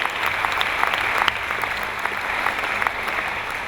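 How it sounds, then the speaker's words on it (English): Audience at a Les Brown motivational talk applauding, a dense, steady wash of clapping heard alone throughout. "Give yourselves a round of applause for showing up for your dream"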